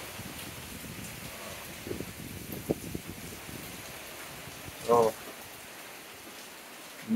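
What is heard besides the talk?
heavy rain during storm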